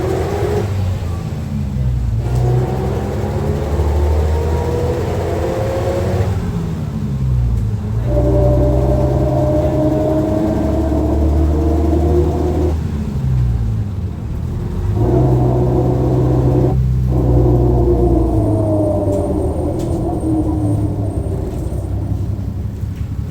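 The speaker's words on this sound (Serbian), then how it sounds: "A ovako je zvučao kada mu je ugrađen MAN motor, doduše bez ovde prisutnog lupkanja." Ikarbus IK202 city bus fitted with a MAN engine running, a loud, close diesel drone that rises and falls in repeated acceleration cycles with rumbling low tones, some speech faintly mixed in.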